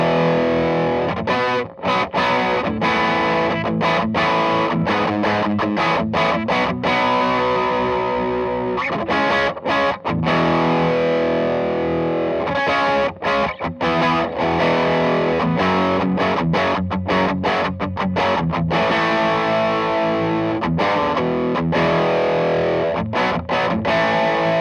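Electric guitar played through a Barber Edge Hog distortion pedal, with the gain raised, gives loud saturated chords and riffs in steady rhythmic strums, with short choppy pauses and no voice.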